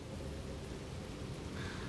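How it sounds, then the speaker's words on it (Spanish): Rain begins to fall, a dense, even wash of steady hiss with a low rumble underneath, constant throughout with no talk. "Mira, ya empezó a llover."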